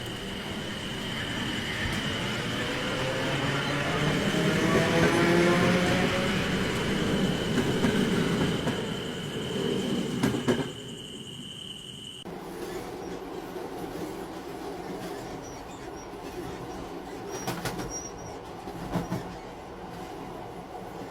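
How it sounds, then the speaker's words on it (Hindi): A train pulls in and runs along with a steady rumble and clatter of wheels on rails. It swells loud at first, then settles into a quieter, even rolling with faint squeals and no talking. "जैसे ही ट्रेन आती है, अभय उसमें चढ़ जाता है।"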